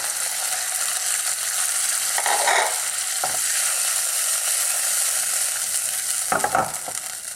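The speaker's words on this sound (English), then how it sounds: "we're now going to add all of that marination, you know, the chili, the garlic, the soy sauce, in it goes, and all that ginger." Frying pork ribs in a pan hiss loudly as a chili, garlic, soy sauce and ginger marinade goes in, a continuous close sizzle with a few scraping stirs.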